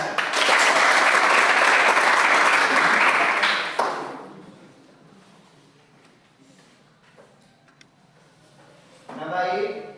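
Audience applause in a classroom session, a loud, dense burst of clapping that stops abruptly, leaving quiet room tone before a voice begins speaking near the end.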